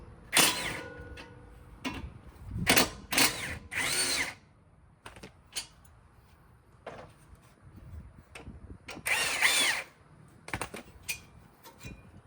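Power tool loosening the two 19 mm caliper bracket bolts on a 2007-2011 Honda CR-V, heard as several short, sharp whirring bursts separated by quiet pauses and small clicks of handling.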